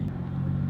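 A Honda Civic Si with a manual transmission pulls away, its engine giving a low steady hum and rumble close by, with no one speaking.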